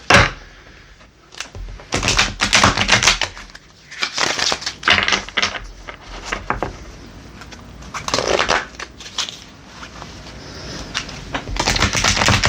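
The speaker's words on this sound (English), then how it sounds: "Go ahead and shuffle the deck a couple times." A deck of oracle cards is shuffled by hand close up, producing bursts of riffling, slapping and crinkly card noise with brief pauses between rounds, and no talk over it.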